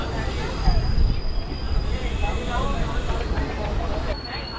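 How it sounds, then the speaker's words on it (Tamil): Passenger train rolling into Arakkonam Junction station, a steady broadband rumble of wheels and carriages with faint squeal, continuous and fairly loud throughout. "இப்போ ட்ரெயின் உள்ளே என்ட்ராகிறது தான் பார்த்தீங்கன்னா அரக்கோணம் ஜங்ஷனுங்க"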